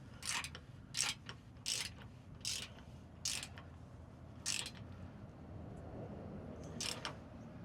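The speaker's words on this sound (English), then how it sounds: "use the wrench on the front here on the nut. Use the ratchet on the back side so I have room." A ratchet clicks in short bursts while tightening a nut on a bed step relocation bracket on a 2024 fourth-generation Toyota Tacoma, several close, sharp ratcheting strokes with brief pauses between.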